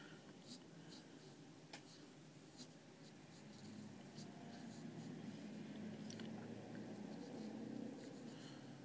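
Pencil scratching on paper while sketching a figure's chin and neck, a steady soft scraping with light strokes throughout, faint whispery talk underneath.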